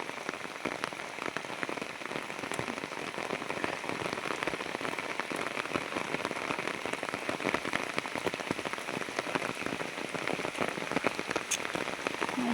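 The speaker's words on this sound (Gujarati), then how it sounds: "બહુ જ વરસાદ ચાલુ છે" Heavy monsoon rain pours down in Santrampur over paddy fields with the harvest half cut, a dense, even hiss of drops drumming on surfaces that goes on without a break and with no voices.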